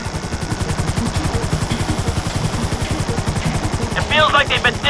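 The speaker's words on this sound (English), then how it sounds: "Hold the chopper here." Helicopter hovering in Grand Theft Auto V, its rotor beating in a steady loud thump throughout, with gunfire-like crackle mixed in and a burst of higher-pitched noise near the end.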